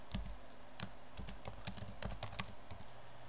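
Keys on a computer keyboard being typed in a quick, irregular run of close, soft clicks against a quiet background.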